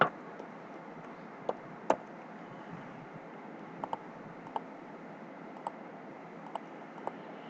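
Scattered single key taps on a computer keyboard while working in an Excel spreadsheet, sharp quiet clicks spaced irregularly over a low steady room hum.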